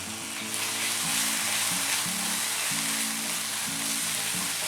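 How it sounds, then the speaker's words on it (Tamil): Onions and ginger-garlic paste fry steadily in a pan for chicken keema samosa filling, a loud continuous sizzle with a rhythmic low stirring pattern running throughout, close and without talk. "இப்போ வந்து இஞ்சி பூண்டு விழுது சேர்க்குறேன்"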